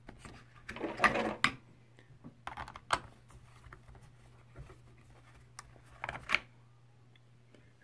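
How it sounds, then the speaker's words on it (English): Loose screws and dirt rattle inside the transmission of a Traxxas Rustler RC car, heard as sparse, faint clicks and knocks with a few sharper rattling bursts over a low steady hum. "Yeah, I'm hearing rattling in here."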